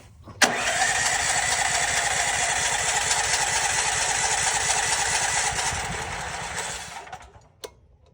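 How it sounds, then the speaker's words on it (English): A DuroMax XP12000EH home generator engine cranks, catches and settles into a loud, steady run for several seconds before winding down near the end. "Now we can start the generator."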